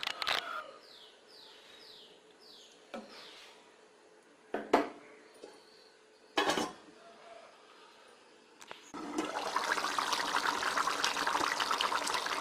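Fish pieces for a village-style curry are stirred in a pot, with a few sharp utensil clanks and knocks, followed by a louder, steady hissing bubble near the end.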